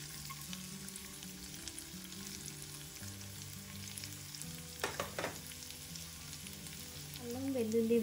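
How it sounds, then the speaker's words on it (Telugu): Ginger and garlic pieces fry in hot oil with a steady, soft sizzle throughout, broken by a couple of brief clinks or stirs near the middle. A faint background tone rises toward the end. "ఆయిల్ వేడయ్యాక దీనిలో 1 టీ స్పూన్ అల్లం ముక్కలు, 1 టీ స్పూన్ వెల్లుల్లిపాయ ముక్కలు వేసుకుందాం"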